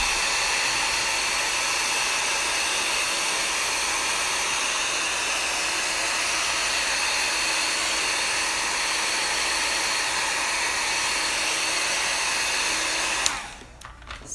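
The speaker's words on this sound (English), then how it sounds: "I'll hit it with the heat tool since people are watching" A heat tool blows steadily over a watercolor layer on a Bible journaling page, a loud continuous hissing roar that holds for about thirteen seconds before cutting off abruptly.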